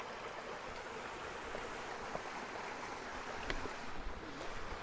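A mountain stream flows steadily beside a trekking path to Vasota fort in a dry year, a continuous soft broadband rush of moving water at moderate distance with no voices.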